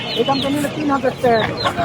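A rooster clucks several times in quick bursts, close and fairly loud, at a livestock market.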